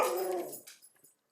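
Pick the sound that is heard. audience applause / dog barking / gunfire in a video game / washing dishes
dog barking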